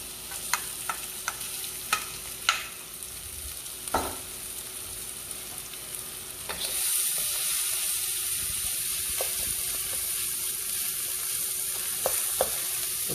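Shrimp for fried rice drop into the hottest spot of a hot wok after a few sharp clicks, and a loud, steady sizzle bursts out and holds to the end.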